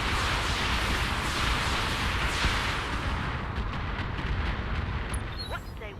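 Heavy weapon fire and explosive blasts roar as a turret is destroyed in a mech combat video game, a dense, loud continuous rumble of gunfire and detonations with faint high electronic tones near the end.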